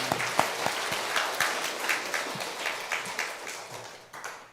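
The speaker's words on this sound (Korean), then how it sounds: "우리 박수 한번 하겠습니다" A church congregation applauds the choir and chamber ensemble after a Sunday worship hymn, producing a moderate, even patter of many hands that fades toward the end, with no talking over it.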